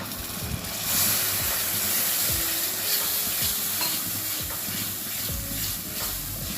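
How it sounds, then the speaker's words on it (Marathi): Water poured into fried masala paste in hot oil for egg curry sets off a loud surge of hissing sizzle, with repeated stirring scrapes through the bubbling mixture. "आता आपण याला थोडंसं पाणी घालून घेऊ"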